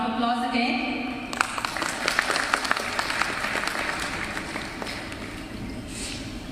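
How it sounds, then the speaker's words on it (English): A summit audience in Dubai breaks into a round of applause, clapping rising after a brief bit of speech and holding steady, moderately close, before easing slightly. "I would like you to please give a great round of applause again"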